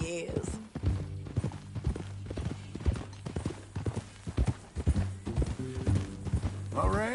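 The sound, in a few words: horse hooves clip-clopping in a video game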